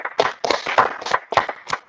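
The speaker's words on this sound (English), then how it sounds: "let's clap it up for the Lord." An audience at a church brotherhood class claps in a quick, steady rhythm, about six sharp claps spaced evenly and heard up close.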